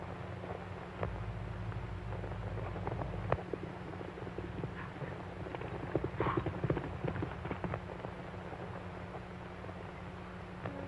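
Horses clip-clop steadily on a ride in a 1932 Western setting, a continuous rhythmic trotting of hooves heard fairly near over a low rumble, with no talking.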